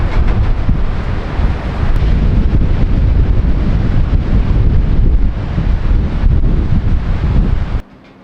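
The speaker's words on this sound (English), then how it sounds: "The wind is going absolutely berserk. Like, it's gusting definitely over 50 miles an hour" Strong winter storm wind gusting hard around a survival cabin, a loud continuous roar buffeting the microphone for about eight seconds before cutting off abruptly near the end.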